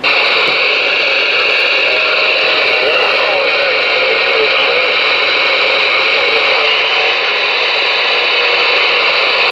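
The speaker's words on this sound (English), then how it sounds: "I hear you out there trying to give me a radio check." Garbled CB radio transmission of a radio check over a Galaxy DX-98VHP, heard as a loud continuous hiss of static with a faint, unintelligible voice buried in the noise.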